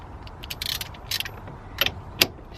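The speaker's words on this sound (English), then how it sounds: "for this one you need a bigger ratchet" A ratchet works the steering wheel nut on a Honda EP3 Civic Type R in a few short bursts of close, sharp clicking, separated by brief pauses.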